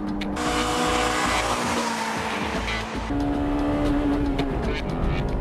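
A Honda Civic Type-R engine with VTEC revs hard under acceleration, loud and close, its pitch climbing, dipping briefly at a gear change, then rising again, with tire noise mixed in.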